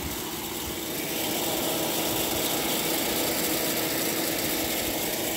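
An Emerson Quiet Kool window air conditioner runs steadily, a continuous loud mechanical hum and whir with a broad hiss, rising slightly after the first second and holding constant, with no voices.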